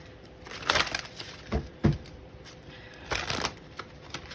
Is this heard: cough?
no